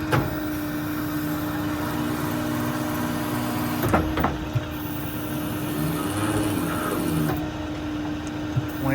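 A hydraulic crane on a 2008 Ford F550 mechanics truck swings side to side with a steady motor hum, a few clunks near the middle and a whine underneath, and no voices.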